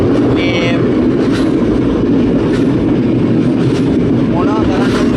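Train travelling to Puttalam, a loud steady rumble from inside the moving carriage with faint squeals and rattles and some voices underneath.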